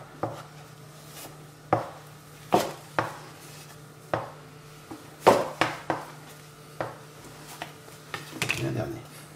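A knife cuts through brioche dough on a board in a steady series of sharp, separate thuds and taps, close and fairly loud, with quiet gaps between strokes.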